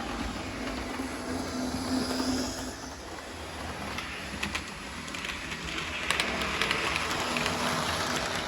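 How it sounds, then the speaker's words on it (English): A model railway locomotive runs along its track, giving a continuous close rumble with light clicks and rattles over about eight seconds and no voices. "So let's get loco number 2 on the move."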